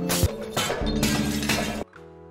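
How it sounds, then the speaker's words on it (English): Glass shatters loudly in the mobile game Smash Hit, several quick crashing breaks in succession that end abruptly, followed by a fainter tinkling tail. "break all glass you see"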